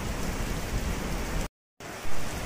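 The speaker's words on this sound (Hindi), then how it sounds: "और अब आप लोग देख सकते हैं कि बारिश भी बहुत तेज होने लगी है" Heavy rain pours steadily in a village during a storm, a dense, loud hiss of water on surfaces that cuts out briefly and then resumes.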